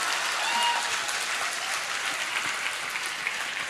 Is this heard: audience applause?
yes